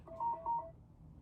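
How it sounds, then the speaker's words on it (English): A phone alarm sounds two short, quiet electronic beeps in quick succession, faint against a low background hum. "That was my alarm."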